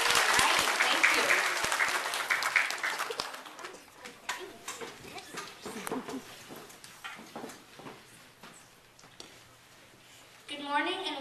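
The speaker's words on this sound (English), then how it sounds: "let's put our hands together" School audience at a 5th grade talent show applauding, a dense burst of clapping that fades into scattered claps, with voices and chatter mixed in.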